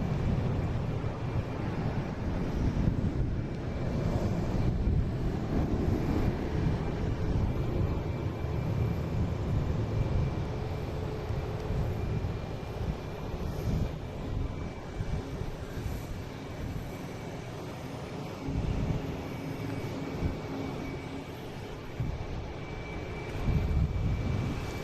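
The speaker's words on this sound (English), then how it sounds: "Next coming in is the Aer Lingus, an A330 coming in from Dublin." An Aer Lingus Airbus A330 arriving from Dublin sends a broad, steady engine roar across the airfield, holding loud and sustained with slight swells throughout.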